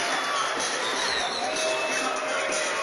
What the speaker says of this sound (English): The crowd loves her.